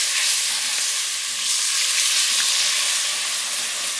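Lobster stock poured little by little into a hot pan of crisped vegetables for bisque, hissing in a loud, steady broadband sizzle that holds for the whole stretch, close and with no voices.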